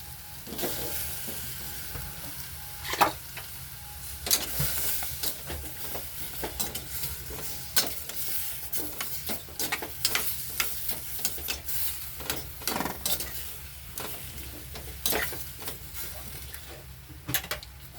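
Squash (kalabasa) hits a hot pan and fries with a steady sizzle, broken by repeated scraping and clinking of a utensil stirring against the pan, close and continuous throughout.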